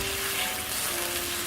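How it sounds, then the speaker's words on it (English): Shrimp sauté in a hot pan for Portuguese shrimp with garlic sauce, giving a steady, close, loud sizzle and crackle that fills the whole moment without pause. "I'm sauteing the shrimp still."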